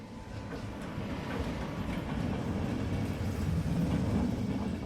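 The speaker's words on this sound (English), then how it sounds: "The train is climbing." A train climbs out of Cairns up into the mountain range through thick rainforest, its steady rumble and rolling wheel noise filling the whole stretch at an even, continuous level.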